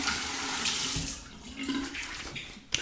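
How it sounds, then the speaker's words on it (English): Tap water runs steadily into a sink to rinse a face between passes of a wet shave, a continuous close splashing hiss that shifts slightly as hands move through the stream, with no talk. "Slight rinse to the face."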